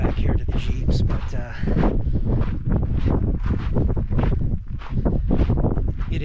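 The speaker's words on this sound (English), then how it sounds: "it is very bitterly cold right now, and very windy." Strong, bitterly cold wind roars across the microphone among the rock formations near Laguna Colorada, loud continuous buffeting with gusts throughout, speech faintly mixed in.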